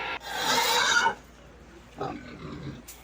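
Pigs on a farm pen at feeding time, a loud burst of grunting and squealing for about a second, then quieter scattered grunts and shuffling noises.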